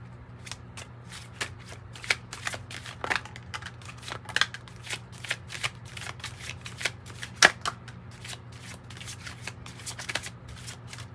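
Oracle cards shuffled in a tarot and oracle reading, a steady run of soft papery riffles and flicks with sharper snaps, close and moderately quiet over a low constant hum, with no talking.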